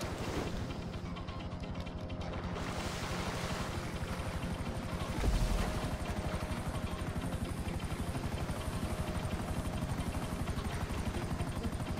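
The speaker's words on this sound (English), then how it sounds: "Don't walk behind the chopper." Helicopter in Grand Theft Auto V, its engine and rotor making a loud, steady close-up chop and whine with no letup.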